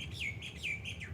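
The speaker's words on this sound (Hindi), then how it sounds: "पक्षियों की मधुर आवाज़" Birds chirping sweetly in a morning setting, a few close, clear repeated descending tweets in quick rhythm over a soft background hum, with no talking.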